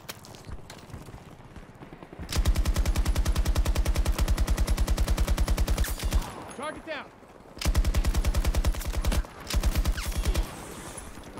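A light machine gun in the video game Battlefield 2042 fires long, rapid, loud bursts with short pauses between them, while a voice talks now and then.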